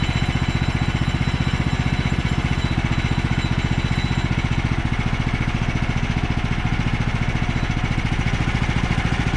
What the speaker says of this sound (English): That is the clutch prematurely engaging. Hear how it's very slight?